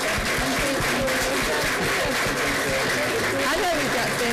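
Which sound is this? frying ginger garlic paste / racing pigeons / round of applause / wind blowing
round of applause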